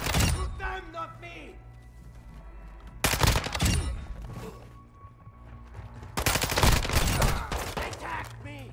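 Rapid bursts of gunfire in the Call of Duty DMZ video game, loud volleys in two main clusters with quieter shots between, under the players' voice chat.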